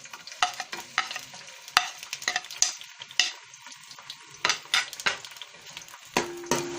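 Onions frying in hot cooking oil for a mixed vegetable curry, with a soft sizzle under repeated clattering spoon scrapes against the pan in an uneven rhythm.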